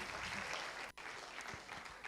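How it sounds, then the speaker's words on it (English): Steady crowd applause fills a TEDx event hall at Nile University of Nigeria, dense overlapping claps from many people heard at some distance, with a momentary dip before the clapping carries on. "Round of applause if she gets on."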